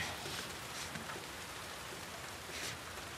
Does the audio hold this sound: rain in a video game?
yes